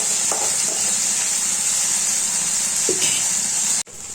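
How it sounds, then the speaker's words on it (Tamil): Small bitter gourds (athalakkai) sautéing in hot oil give a steady close sizzle with a few light stirring clatters, cut off abruptly near the end. "எண்ணெய் சூடானதும் இந்த அதலக்காய் எல்லாத்தையும் அதில் சேர்த்துக்கணும். இந்த மாதிரி எண்ணெயிலேயே நல்லா வதக்கி எடுத்துக்கணும்."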